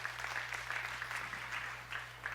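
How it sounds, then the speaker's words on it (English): A TEDx audience gives a volunteer a round of applause, steady clapping heard faint and distant over a low constant hum. "Give her a big round of applause."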